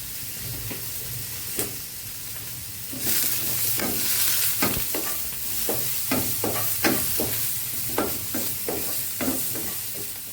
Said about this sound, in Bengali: আমি সবজিগুলো একটু ফ্রাই করে নিয়ে তারপরে ফিরে আসছি